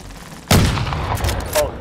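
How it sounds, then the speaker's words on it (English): Video game gunshots fired from a first floor, a sudden loud close blast after a quiet half second, followed by a few more sharp reports and echoing tails. "Shots came from the first floor."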